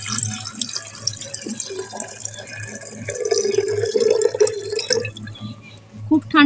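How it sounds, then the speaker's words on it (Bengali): Cooled water is poured into a jar, giving a steady splashing trickle that rises in pitch as the jar fills, with clinks and a brief knock near the end. "এবার আমি জলটা জারের মধ্যে ঢেলে দেব।"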